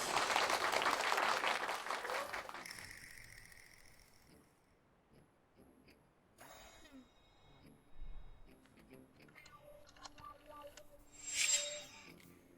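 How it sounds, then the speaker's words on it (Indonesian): Applause swells at the start as a dense burst of clapping, then fades out within a few seconds, followed by quieter scattered noises and a short late flare of sound. "tepuk tangan"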